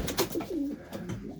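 Pigeons coo softly in a loft full of droppings where young birds are being raised, a few close, low, rolling calls in quick succession with no talking.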